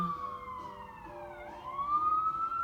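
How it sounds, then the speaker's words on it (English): Emergency vehicle sirens wail outside, a steady moderately loud tone that dips and rises again, heard from some distance over low background rumble. "There's like the sirens and stuff too."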